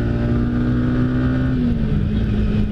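Single-cylinder Yamaha XSR 155 neo-classic motorcycle engine revving under acceleration on a ride, a loud steady drone with the pitch easing slightly downward, heard close and alone.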